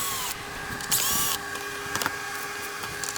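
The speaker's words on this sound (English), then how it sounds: "let me go ahead and take the all these screws off here" A power drill backs screws out of the top cover of a roof-mounted OutEquip Pro 12V air conditioner, with one loud, brief burst of whirring amid a steady background hum.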